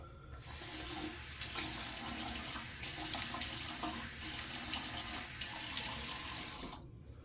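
Running water from a tap pours steadily in a continuous close hiss for several seconds while the face is wetted for shaving, then cuts off abruptly.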